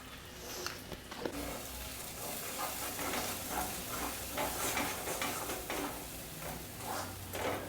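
Coconut and taro paste stirred into hot oil in a pan, giving a steady close sizzle with repeated scraping stir strokes throughout.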